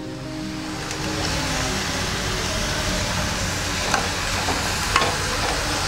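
Andhra-style fish curry with fish heads is stirred in a pan, giving a steady, fairly loud rushing sizzle and bubbling throughout, with a couple of faint clicks from the utensil.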